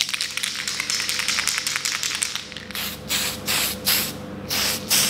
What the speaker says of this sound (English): I'll show you me painting this first little piece here